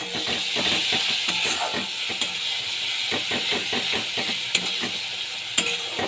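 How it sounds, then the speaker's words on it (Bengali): Ground spices with cumin and coriander powder fry in a pan, a constant close sizzle broken by the repeated scrape of a spoon stirring, with no talking. "ভালো করে মশলাটাকে আমি কষিয়ে নিচ্ছি"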